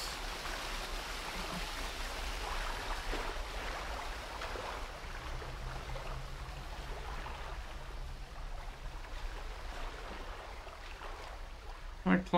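Steady rushing water from a waterfall in a Thief fan mission set around Malazar's Inscrutable Tower, a continuous broadband wash that holds level throughout, with a brief faint clink near the end.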